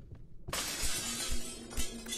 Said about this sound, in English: Yeah, now we got breaking glass.